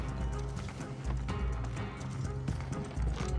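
Rhythmic clip-clop of a horse's hooves in a video game, steady and close, with a low rumbling bed beneath and no talk.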